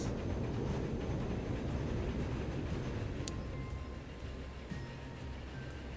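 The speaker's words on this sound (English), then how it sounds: "There's our new passenger trains." Passenger trains running in the Transport Fever 2 video game make a steady low rumble with faint rail clatter, heard at moderate distance and fairly quiet, with a couple of brief higher tones near the end.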